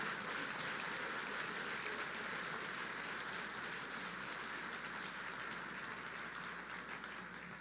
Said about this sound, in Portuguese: Dê para Jesus uma forte salva de palmas